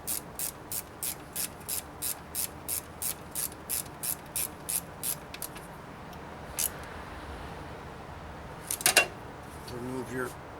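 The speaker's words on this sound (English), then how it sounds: "Tighten this bolt back up." Ratchet tightening a bolt during A/C compressor replacement on a 2003 MINI Cooper S, heard as about a dozen quick, evenly spaced clicks up close, followed by a few scattered clinks and handling noises.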